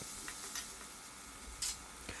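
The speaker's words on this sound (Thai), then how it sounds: "ใส่น้ำมันลงไปได้เลยครับ จากนั้นใส่เครื่องผัดที่เราโขลกเอาไว้ลงไปผัดจนเหลืองหอมก่อนครับ" Pounded Thai curry paste stir-fried in hot oil for a catfish and holy basil stir-fry, giving a steady low sizzle with a few brief scraping stirs, close and alone.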